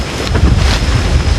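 Strong outdoor wind roaring and buffeting the microphone in a steady, loud rush with low rumbling gusts and no clear voices.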